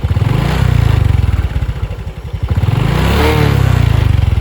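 Motorcycle engine revved in neutral while stopped on a night road, loud and close, its rapid firing pulses rising and falling through repeated blips with a rattly mechanical clatter, no voices.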